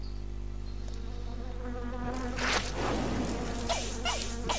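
A fly buzzing in a Total Drama cartoon, a thin insect drone that comes close in several swooping passes over a low steady background hum.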